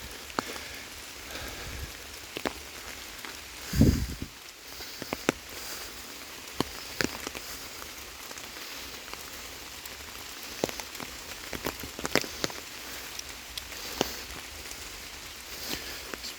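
Steady outdoor rain hisses throughout, with scattered individual drops tapping close by and a heavier thump around the middle; no voices are heard.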